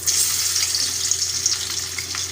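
Garlic dropped into hot oil in a home kitchen pan, giving a loud, steady sizzle that holds evenly throughout with no voices.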